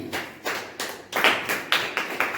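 A church congregation claps in unison during a Christmas sermon, about nine loud, sharp claps in a steady rhythm, close and clear with no talking.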